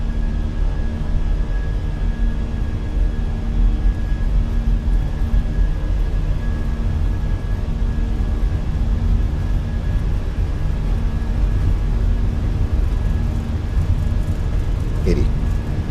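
Fenix A319 airliner jet engines spooling to takeoff thrust in a flight simulator, a steady droning roar with a thin whine tone held throughout, loud and even, with a brief higher sweep near the end.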